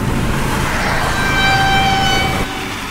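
A train passing a railway crossing in the Rijeka area of Croatia, a steady loud rumble with a sustained high horn-like tone over it for about two seconds before the noise drops off.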